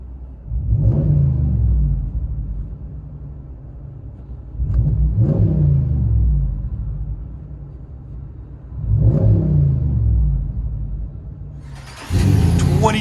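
A 2021 RAM 1500 pickup with a 5.7L HEMI V8 and aftermarket dual exhaust revs three times, each deep, loud rumbling swell easing back to a throaty idle, heard from inside the cab before another rev begins.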